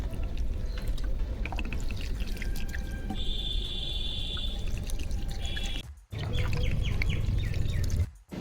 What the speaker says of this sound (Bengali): ছাদে না ফুল গাছে জল দিতে এসেছিলাম